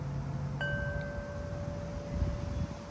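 Steady low wind rumble buffets the microphone throughout, with a faint high tone running underneath.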